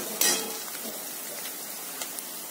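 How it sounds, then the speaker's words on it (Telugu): Onions, ginger and garlic fry gently in a pan with a soft, steady sizzle, broken by a few light clinks of a utensil against the pan. "లైట్ గా ఉల్లిపాయలు వేగిపోయాయి, అల్లము వెల్లుల్లి అంతా వేగింది"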